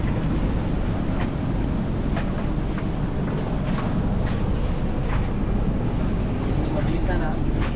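A single-engine boat runs on open water with a steady, low droning rumble, heavy wind buffeting the microphone and the wash of water throughout, with faint voices in the background.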